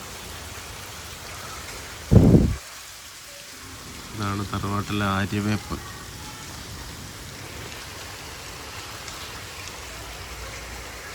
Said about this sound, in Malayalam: നല്ല മഴ കേട്ടോ നിങ്ങളെ നാട്ടിൽ മഴ ഉണ്ടോ